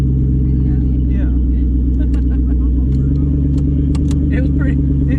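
A twin-turbo six-cylinder Mustang slides sideways, its engine a deep continuous rumble with a shift in pitch midway, heard from inside the car beneath people talking.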